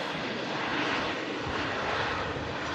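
Ryanair jet airliner arriving at Manchester on a short flight in from Dublin, its engine roar a steady broadband rush heard from a distance without a break.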